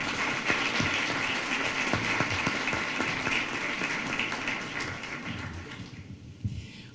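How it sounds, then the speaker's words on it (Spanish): A conference audience in Bogota applauds the panelists with dense, sustained clapping that gradually thins and fades out near the end. "Les agradecería un fuerte aplauso"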